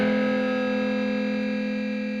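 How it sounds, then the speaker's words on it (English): A guitar played through a Tomsline Mario bitcrusher pedal rings out as one sustained, distorted note with a metallic, ring-modulator-like buzz, loud at the start and slowly fading. "it sounds like a ring modulator"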